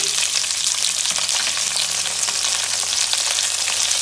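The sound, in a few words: frying red onion, green chillies and curry mix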